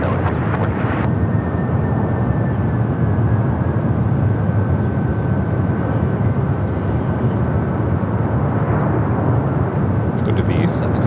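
A Delta Boeing 767 jet at Los Angeles airport, a loud continuous engine roar filling the whole stretch with a faint steady whine riding on top, heard from fairly close.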